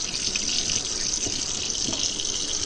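Warm water runs steadily from a tap for rinsing a paint brush, a continuous close hiss and splash with no break and no speech.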